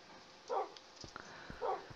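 Guard dogs in the Minecraft video game give two short barks about a second apart, fairly faint and alone.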